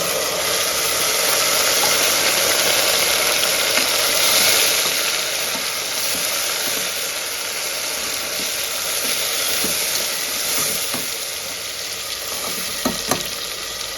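A ground masala paste frying with onions in a pan, a loud continuous sizzle with crackles and a few stirring clicks near the end.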